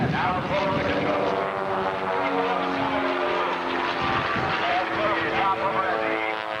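A propeller-driven aerobatic plane roars steadily through a snap roll at the 1991 Cleveland Air Show, its engine loud and continuous throughout while an announcer's voice runs over it.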